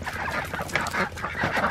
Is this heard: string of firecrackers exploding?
no